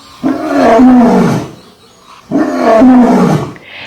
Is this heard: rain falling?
no